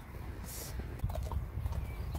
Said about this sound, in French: Je vais aller jusque chez moi à cheval en regardant l'heure